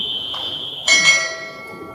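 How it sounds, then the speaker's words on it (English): An electric bell rings sharply at a quiz competition, a bright tone cutting in over a steady background whine and lingering briefly before fading. "Press your bell."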